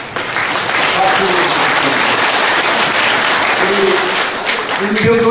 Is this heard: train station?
no